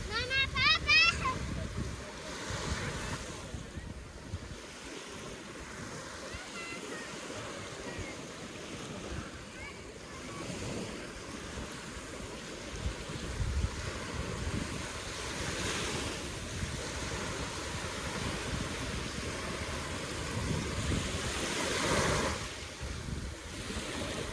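Surf rolling onto Alcudia beach in October, a steady broadband wash of waves with wind buffeting the microphone throughout and a few voices in the background.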